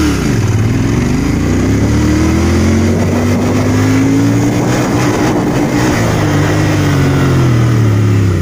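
A Royal Enfield Continental GT 650 twin accelerates hard in first gear, its loud, close engine note climbing steadily in pitch for several seconds and then dropping back as the revs fall.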